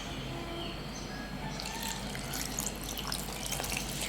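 Water poured into a bowl of chilli bajji batter mixed by hand, a soft steady trickle that runs continuously at low level, with brighter splashy pouring in the latter half and no talk over it.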